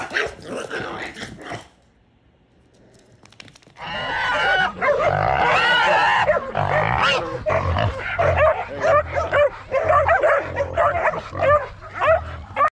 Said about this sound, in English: we got the pup that look just like Mufasa going to her new home today